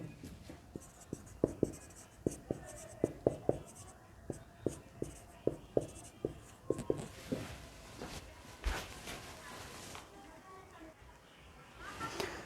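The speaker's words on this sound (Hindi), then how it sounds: "रुक जाइए हम आपको समझा रहे हैं, पहले लिख लेते हैं" Pen writing on paper during a chemistry lesson, a quick series of close scratchy strokes and taps that thin out toward the end, with faint background noise.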